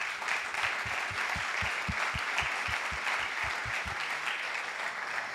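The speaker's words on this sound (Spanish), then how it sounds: "Dale un fuerte aplauso al Señor." Church congregation applauding loudly for the Lord, a dense crowd of clapping hands with a steady rhythmic pulse running through it, continuous and full from start to finish.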